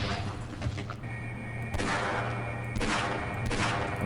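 The Hivehand fires in its tertiary mode in Half-Life MMOD as a dense, continuous volley of sharp bursts with a steady underlying hum, staying loud throughout.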